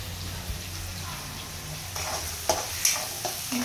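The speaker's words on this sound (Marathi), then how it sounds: "अशा प्रकारे कांदा परतून झाले माझा." Onions sautéing in a pan give a steady low sizzle close by, with a few sharp clicks and taps of stirring toward the end and no clear talking.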